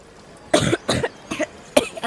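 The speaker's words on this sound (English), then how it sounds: "takes a long drag on the water bottle, but coughs halfway through, spluttering up half of it" Four or five sharp, close coughs in quick succession, harsh and spluttering, like someone choking on a drink of water.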